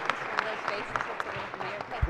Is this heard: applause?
yes